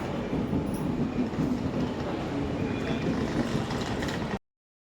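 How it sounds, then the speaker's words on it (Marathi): A train rumbles steadily nearby with a dense roar of wheels on rails, continuing evenly before the sound cuts off abruptly. "इथे आपली ट्रेन आलेली आहे"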